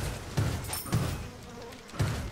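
Swarm of bees attacking in a video game, a faint, thin insect buzz running underneath, with three short low thumps landing at roughly half-second to one-second intervals.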